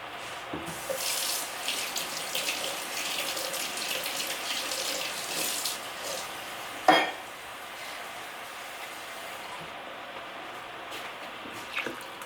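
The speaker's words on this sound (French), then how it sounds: "Et je peux ajouter un petit peu de l'eau aussi" Tap water runs steadily into a pot of green bean and meat stew with tomatoes, a continuous splashing hiss lasting several seconds, with a brief clink partway through and fainter drips toward the end.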